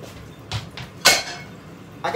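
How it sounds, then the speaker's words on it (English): A frying pan and pots handled on a home stove while frying corn with onions: a few separate metallic clanks and knocks, the loudest near the middle, with quiet gaps between, fairly close and with no talk. "I got my frying pan here"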